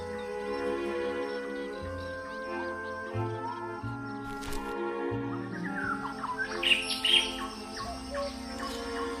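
A young cuckoo in the nest calls while being fed, giving thin repeated chirps and tweets over a sustained tonal background, rising to a busier cluster of high calls near the end.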